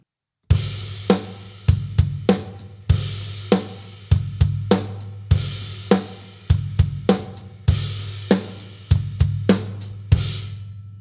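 Drum kit groove with a crash cymbal struck on every bar, loud repeated cymbal washes over steady kick and snare hits, alone without talk.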